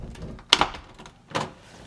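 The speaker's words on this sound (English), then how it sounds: "And then you're just going to close it" A home door closing over a resistance band door anchor gives a sharp latch click, a brief rattle and then a second softer thud, close and alone.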